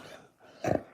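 A husky gives a short grumbling vocalization, low throaty growl-like "talking" in a couple of close bursts, sounding gruff rather than aggressive, with no speech over it.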